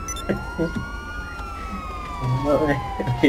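A video game ambulance siren in GTA V wails, sweeping up and down in long glides, fairly loud, with scattered voices and game noises cutting in over it.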